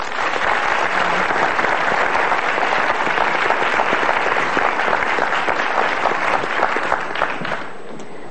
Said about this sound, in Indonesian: tepuk tangan dong ya